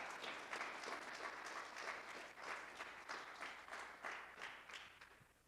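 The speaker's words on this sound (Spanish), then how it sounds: "Sí, puedes aplaudir a eso." A church congregation claps in a faint, distant, rhythmic pattern, with regular bursts of hand claps repeating steadily for several seconds at low volume.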